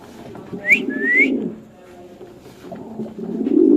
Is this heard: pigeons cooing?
yes